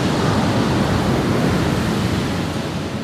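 Strong ocean waves roar onto a beach in General Nakar, Quezon, a loud, continuous wash of surf filling the air with no voices.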